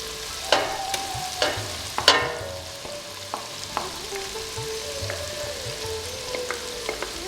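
Masala fries in a pan for Awadhi mutton korma, a constant low sizzle with sharp spoon clacks and scrapes against the pan at irregular intervals, close and clear.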